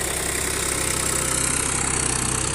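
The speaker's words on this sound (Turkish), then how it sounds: "Traktörümüz 255 turbo traktörümüz." Massey Ferguson MF 255 Turbo tractor engine running steadily while ploughing a small tomato field, a continuous loud droning rumble with a mild knocking pulse, close by and without talk.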